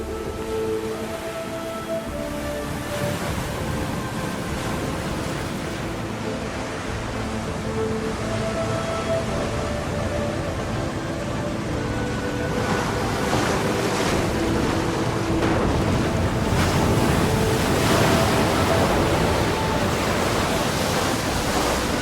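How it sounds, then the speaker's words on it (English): A storm on the Baltic Sea churns waves against a constant gusting wind, a dense close roar that builds gradually and stays unbroken, with no one speaking. "A storm is brewing."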